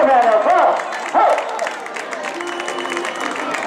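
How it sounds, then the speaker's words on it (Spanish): A crowd applauds and cheers at a popular running race in Meaño, with clapping and voices mixed under a loud announcer talking over the scene. "Hay que darle un aplauso a esta gente que ven empezando"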